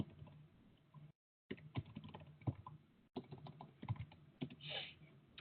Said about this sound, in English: So sorry for the key typing.